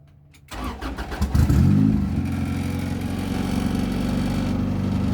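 A turbocharged Honda Accord with an F23 engine cranks and fires up, revving briefly before settling into a steady, loud idle, close by and with no talking.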